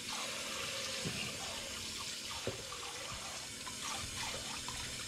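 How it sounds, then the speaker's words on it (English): Celery is rinsed under a running tap in a wash bin, with a steady stream of water and occasional splashes and drips as the stalks are handled, nearby and unvoiced. "Five minutes later, I'm still washing the celery."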